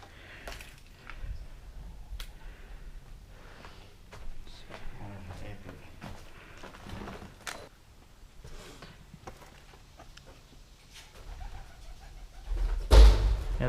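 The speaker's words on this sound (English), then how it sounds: "The pigeons in this room ended up going absolutely nuts" Pigeons in a room of an abandoned Kentucky high school give low cooing calls amid scattered flapping and thumps, echoing in the empty space, with a louder burst of wingbeats near the end and voices talking faintly.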